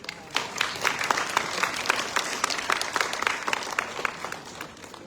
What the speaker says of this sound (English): A thunderous applause for Dr.